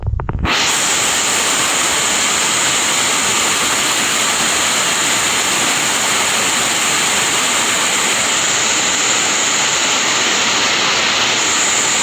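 Hindag-an waterfall in St. Bernard, Leyte, a stepped cascade with a stream below, roars loudly and steadily up close after a brief quiet start, a dense unbroken rush of falling water with no voices.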